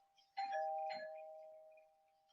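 A doorbell chimes a two-tone ding-dong, the second note ringing out and slowly fading, with nothing else around it.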